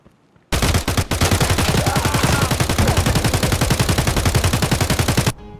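Sustained automatic fire from a machine gun in the video game Escape From Tarkov, a loud rapid rattling burst of evenly spaced shots running for several seconds after a brief quiet start, then cutting off abruptly.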